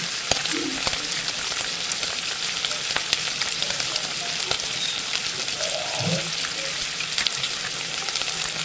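Ginger paste sizzles in hot oil in a wok, a steady, dense crackling hiss with scattered pops that holds evenly throughout at moderate loudness, close by and with no talking.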